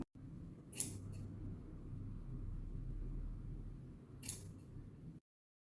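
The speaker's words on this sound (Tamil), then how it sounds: "எந்த பக்கம் அதிகமாக இருக்கோ அதை கட் பண்ணிட போகிறோம்" Scissors snip through blouse fabric laid over a place mat, two short crisp cuts a few seconds apart heard close and fairly quiet over a low background rumble.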